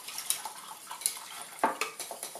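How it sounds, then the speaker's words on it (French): A spoon stirring cold water into a bowl of amaranth batter, quiet close clinks and light scrapes against the bowl repeating at an uneven, brisk pace. "Je mélange."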